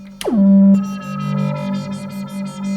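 An Elektron Digitone synthesizer tone sweeps down sharply then settles into a sustained buzzy note whose pitch and brightness wobble rhythmically from an LFO, in a steady, repeating pulse.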